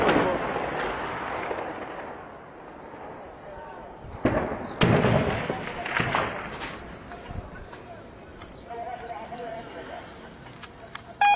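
Gunfire and artillery during armed clashes near Rastan, Homs, with sharp blasts and cracks ringing out among distant rumbling and scattered background chatter and birdsong.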